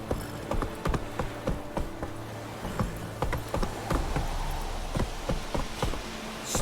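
Roach the horse from The Witcher 3 gallops with a steady, close clip-clop of hooves, a repeating rhythmic thudding that runs for several seconds over a low game background hum.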